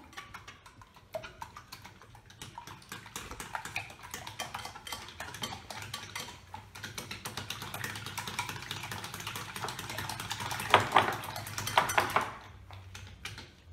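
A utensil whisks omelette eggs in a bowl with quick, rapid clinking and tapping, steady at first and growing busier and louder toward the end, close by with no talk.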